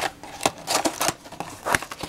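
Scissors snip open a Tess brand tea bag package, with several sharp crisp cuts and rustles of packaging at close range, irregularly spaced.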